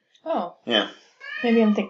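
An old cat meows briefly among several short voiced calls, close by, while people chat over and between the sounds.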